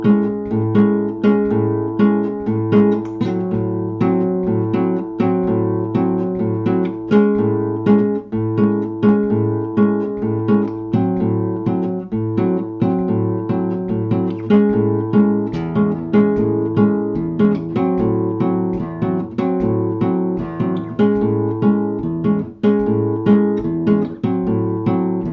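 Acoustic guitar plays a steady bossa nova rhythm pattern held on a single bass note, with syncopated chord strums repeating evenly and clearly throughout, unaccompanied and without talk.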